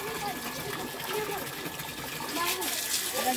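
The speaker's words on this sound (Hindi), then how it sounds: "देखिए गरम गरम पानी निकल रहा है" Hot water gushing steadily from a household tap in cold weather, a continuous close splashing rush with a voice speaking over it throughout.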